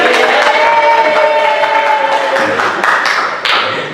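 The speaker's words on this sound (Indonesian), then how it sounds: "Tepuk tangan." Students in an Arabic-language classroom clap on cue, the short claps mixed with sustained group voices calling out together, loud and close before fading near the end.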